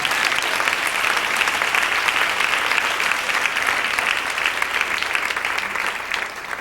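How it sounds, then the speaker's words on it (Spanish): Congregation applauding during a Spanish-language church service, a dense, steady wash of clapping from many hands that stays loud throughout and fades slightly at the end. "Dele ese aplauso al Rey en esta noche."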